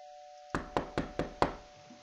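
Five firm knocks on a front door in the Roblox Bloxburg video game, evenly spaced and close, each a sharp hollow rap with a short decay over a steady faint hum.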